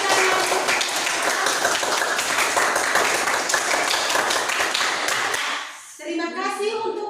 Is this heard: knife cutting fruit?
no